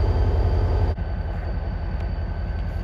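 A New Hope & Ivyland Railroad diesel locomotive idles with its train, pumping up air in a steady, loud, dense rumble, with a brief dip partway through.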